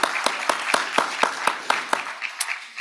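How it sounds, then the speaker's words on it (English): Applause from a small audience at a veterinary symposium panel, with a few distinct, fairly regular claps standing out over a thin, steady patter, loud and close for a few seconds with no talk. "So let's give them one more round of applause."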